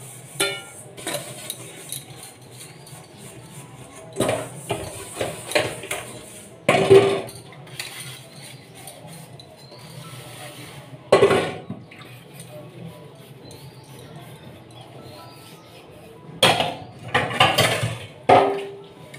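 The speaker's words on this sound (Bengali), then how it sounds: "আমি বাসনগুলো মেজে ফেলি" Dishes washed by hand, with intermittent clinks and clatters of pots, plates and cutlery against a steady background of rubbing and running water, in bursts separated by quieter stretches.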